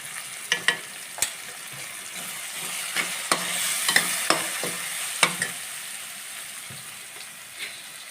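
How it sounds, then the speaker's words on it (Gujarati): Chopped chillies, onion and tomato sauté in a pan for batata poha: a soft, steady sizzle broken by sharp, irregular spatula taps and scrapes, with no voices. "મરચાં, ડુંગળી અને ટમેટા બરાબર સતળાઈ ગયા છે"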